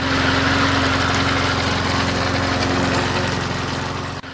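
A Toro Z-Master 4000 zero-turn mower engine runs steadily, loud and close, with a constant droning hum that eases slightly before cutting off near the end.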